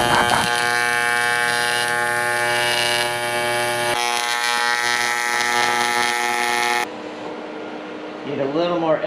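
Welding on an e-brake caliper bracket for a GKTech dual caliper e-brake install, a steady loud electric buzz with a harmonic hum that holds for several seconds and then cuts off abruptly, followed by quieter fizzing.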